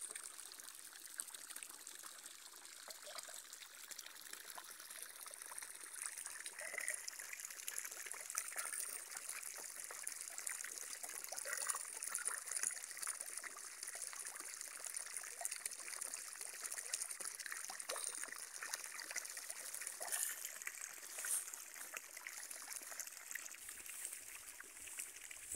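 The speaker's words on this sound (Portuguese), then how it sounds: "Na época da seca, esta água caindo aqui vai ajudar bem esse tanque aqui." Water trickling and splashing into a fish pond, a continuous soft hiss and patter from a small fall of water, steady and fairly faint with no voices.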